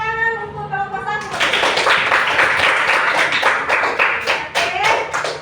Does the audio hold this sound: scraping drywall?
no